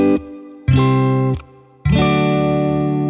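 An electric guitar sounds a chord fingered in the G form shape, heard as three separate strums: a short one, then a chord held about half a second, then a loud sustained one left ringing, with a distorted, effects-laden tone.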